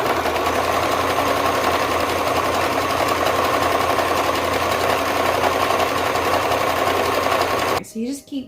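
Sewing machine hemming car seat cover fabric, a steady rapid mechanical whir that runs nonstop at close range, then cuts off near the end as a voice begins speaking.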